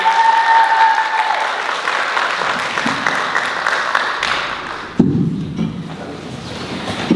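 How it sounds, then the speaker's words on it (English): Loud audience applause fills the room at a college unplugged music performance as a singer is welcomed onstage, steady clapping with a few thumps, easing slightly toward the end. "Round of applause for Luca, everybody."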